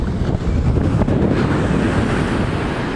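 Loud crashing ocean surf and strong gusting wind buffet the microphone continuously, a dense roar with no pauses.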